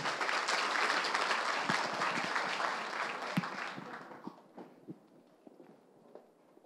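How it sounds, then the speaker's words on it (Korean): Applause from an audience at a Korean church farewell service for a departing pastor; loud sustained clapping for about four seconds, then thinning out into scattered individual claps. "박수로 마주해 주시기 바랍니다"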